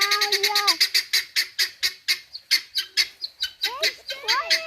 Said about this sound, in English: Let's see if the guinea fowl will be quiet for 30 seconds